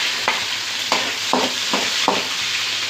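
Green chillies dropped into hot oil with fennel seeds sizzle steadily, with a handful of sharp spatula scrapes and clacks at a regular pace; near and fairly loud, no voices.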